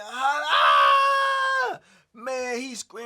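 A voice imitates another man screaming in pain from a broken arm: a long, loud, strained wail that breaks off, then a shorter second cry, close and alone.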